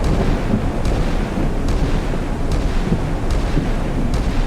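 British warship 4.5 inch naval guns firing in the naval game Sea Power, a loud rumbling barrage with several sharp reports spaced about a second apart over continuous low booming.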